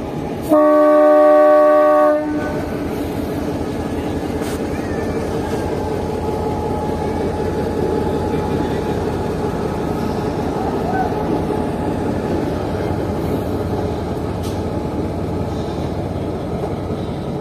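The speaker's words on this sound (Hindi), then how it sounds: "ये लोकोमोटिव अब यहाँ से निकलने के लिए बिल्कुल तैयार है।" A pilot locomotive pulling out of a railway station ahead of the Jaffer Express sounds a loud horn blast for about two seconds, then settles into a steady rumbling engine drone with rhythmic rolling clatter.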